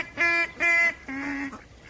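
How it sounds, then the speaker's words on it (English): A horn blown to call ducks to a park pond in Jersey City sounds three honking blasts: two short, evenly spaced ones and then a longer, lower-pitched blast. The blasts are close and loud, with no voices. "they know when he blows the horn, they get peas"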